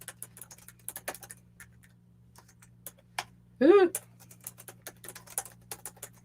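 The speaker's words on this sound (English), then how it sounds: "Just trying like crazy to keep up on our keyboard." Rapid clicks from a computer keyboard tap in uneven bursts against a low steady hum, with a short vocal sound partway through.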